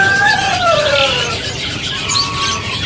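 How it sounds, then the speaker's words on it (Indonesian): A buffalo myna (jalak kerbau) calls from a cage at an Indonesian songbird market, with shrill descending whistles and squeals close by against steady background noise. "Ini jalak kerbau habis bongkaran."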